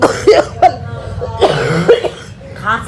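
Several sharp coughs close by, spaced irregularly, with a voice talking between them.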